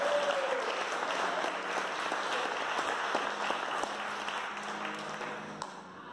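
A church congregation applauds during an evangelical sermon, a steady dense wash of many hands clapping that carries on for the whole stretch at an even, fairly loud level and thins slightly toward the end.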